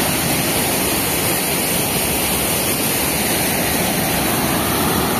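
Rushing water of the Noyyal river near Coimbatore, a loud, steady, unbroken roar of flowing water heard up close with no voices over it.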